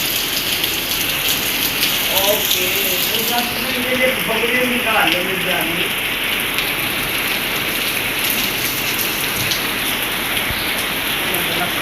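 Steady rain pours in Lahore, a dense, even hiss of drops hitting surfaces that runs through the whole stretch, while a person talks briefly over it in the middle.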